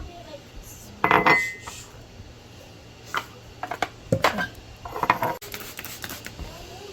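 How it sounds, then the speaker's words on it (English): Coffee stirred in a cup, a few sharp spoon clinks and taps against ceramic in short irregular bursts over a quiet kitchen background. "Here I'm just mixing my coffee."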